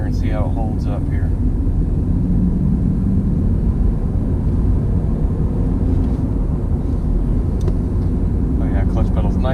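A 1998 Subaru drives along and picks up speed, giving a steady low road and engine rumble from inside the cabin. Someone talks over it at the start and again near the end.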